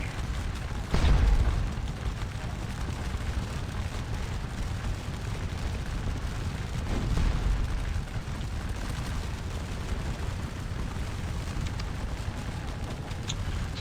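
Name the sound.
artillery cannon fire in video game Scourge of War Waterloo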